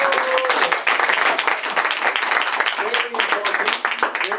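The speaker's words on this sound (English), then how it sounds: "Let's give him a round of applause" A round of applause at a Toastmasters meeting, steady clapping from a modest room of people, with voices talking and calling out over the clapping.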